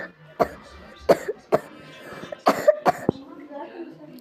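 Several sharp, close coughs burst out in quick succession, spaced unevenly over a few seconds, with some throat noise and faint voice between them.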